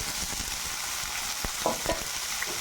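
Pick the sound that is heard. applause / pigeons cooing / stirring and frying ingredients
stirring and frying ingredients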